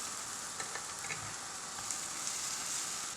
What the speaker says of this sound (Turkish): Yeniden mini pankeklerimi yapıyorum.